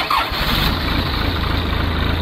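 A Case 580K backhoe's diesel engine cranks and catches, then settles into a loud, steady rumbling idle close by, with no talk over it.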